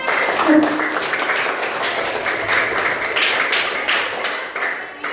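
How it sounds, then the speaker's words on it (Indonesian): A group claps together in a classroom-style session, a brisk, uneven burst of hand claps with sharp taps and a voice speaking over them, the clapping thinning out toward the end. "Tepuk tangan"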